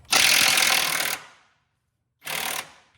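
Wrench working loose a truck suspension nut and bolt, 15/16 on the nut side and 18 mm on the bolt side: a long loud mechanical burst of about a second, silence, then a shorter second burst, close and with no talk.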